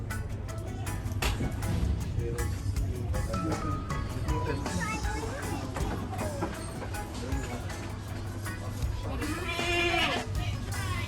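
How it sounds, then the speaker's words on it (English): Kalahari Red and Boer goats bleat repeatedly on a farm, their calls rising over steady low background noise and someone talking throughout. "This goat is my buck."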